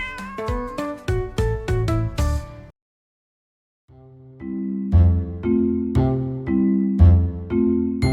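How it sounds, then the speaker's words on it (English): A neighbor's cat meows loudly and close in a quick run of about seven short calls, goes silent for a moment, then gives several longer, drawn-out meows. "Oh, your neighbor's cat."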